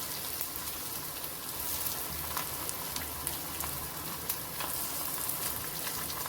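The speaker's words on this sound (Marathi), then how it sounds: "आता आपलं तेल तापलेलं आहे आणि आता आपण वडी घालून घेऊया." Coriander vadi pieces fry in hot oil over a low flame, giving a steady, close, even sizzle with small crackling pops throughout and no voices.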